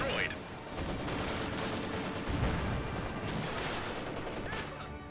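Gunfire from a Company of Heroes 2 battle, including machine-gun fire, forms dense overlapping bursts and shots throughout.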